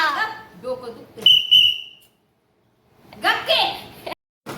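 A small toy whistle gives one shrill, sustained toot between bursts of a child's chatter, close and clear, followed by more talking.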